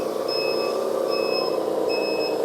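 A Kabolite K3367 8x8 metal-chassis hydraulic dumper model sounds its reversing alarm, three evenly spaced electronic beeps over a continuous motor whine, close and clear.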